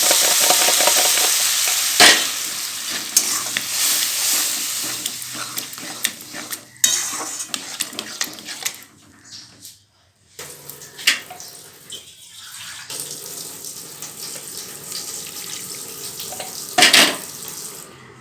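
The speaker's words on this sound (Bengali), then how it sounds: "এবারে ডালগুলো আমি ঢেলে দেবো।" Dal is poured into sizzling tarka in a pan, a loud watery rush and splashing over steady frying noise. Stirring knocks and a short lull follow, then the sizzle settles into a low simmer with no voices.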